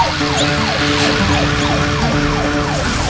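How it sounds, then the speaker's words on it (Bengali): A police car siren wails loud and close in a continuous repeating rising-and-falling sweep, alone with no talk, from a children's superhero show. "এই কি, পুলিশের গাড়ি এখানে কেন?"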